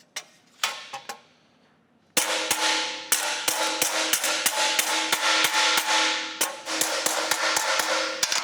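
Sharp metallic hammer and dolly blows straightening the body panel of a classic Camaro, struck in a quick, uneven series of close, loud ringing impacts after a few scattered taps and a quiet pause.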